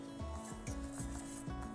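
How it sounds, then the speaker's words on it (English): Dry vegan pancake ingredients get whisked together in a bowl, producing quiet rhythmic rubbing strokes, about five even sweeps in under two seconds, close and soft without any voice. "we can give that a little whisk together"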